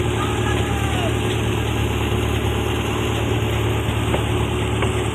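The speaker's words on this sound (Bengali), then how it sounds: "আর একটি ট্রলার যাচ্ছে।" A fishing trawler's engine chugs past on the waters of the Sundarbans, heading out to sea. It makes a steady, droning mechanical hum that stays at an even loudness throughout.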